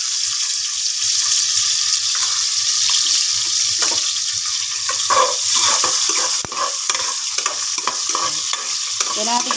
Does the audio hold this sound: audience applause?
no